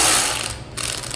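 A ratchet snugs down bolts on a Honda GX390 engine being assembled, a loud, close, continuous fast clicking of the pawl over about a second.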